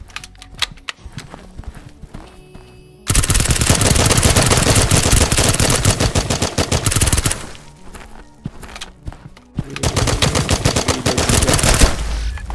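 Rapid, loud sniper rifle fire in the shooter game OneTap sounds in dense, continuous bursts of sharp cracks up close. Two long volleys are broken by a brief lull, with scattered clicks and shots before them.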